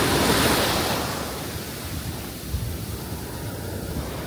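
Ocean waves wash onto a beach in a steady broad hiss, louder at first and then easing into a softer, continuous rush with some wind noise, and no voices.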